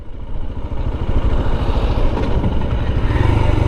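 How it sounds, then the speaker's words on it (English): Royal Enfield Himalayan 411 motorcycle with a rider missing a gear, a close, rough single-cylinder engine note that pulses and revs unevenly before picking up again. "Oops, as he misses a gear."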